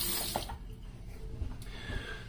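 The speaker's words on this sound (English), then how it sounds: "Let's rinse off real quick." Tap water runs steadily into a sink to rinse a Rex Ambassador razor partway through a two-pass shave, a close, continuous splashing stream with small clinks and no talking.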